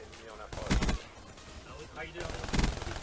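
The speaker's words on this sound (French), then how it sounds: "Donc qui est une arme lourde à rafale de 6 par 6." Dredge 48 heavy six-round burst gun firing in Black Ops 3, two short bursts of rapid shots about two seconds apart, loud over game background noise.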